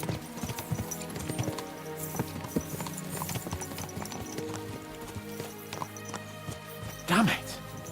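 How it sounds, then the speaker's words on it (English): Horse hooves clip-clop steadily in Kingdom Come: Deliverance II, a medieval game, a continuous trotting rhythm under music and ambient sound, with a brief louder snort or whinny near the end. "Let's really spur these horses on, eh?"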